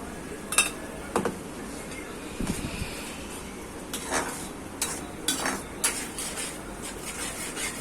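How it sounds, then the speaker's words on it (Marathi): Manchurian sauce seasoned with salt and a little sugar, stirred as it cooks in a pan, heard as a steady low sizzle broken by scattered clinks and scrapes of a utensil on the pan, close by. "सॉस चांगले परतून झाले."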